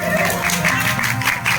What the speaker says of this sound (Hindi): एक बार ताली के माध्यम से सम्मान हमारे आर्गन वादक भाई जग्गू यादव का